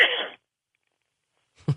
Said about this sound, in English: has got a cough